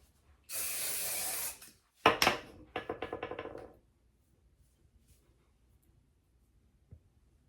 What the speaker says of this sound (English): just your wig wax spray to hold that a little bit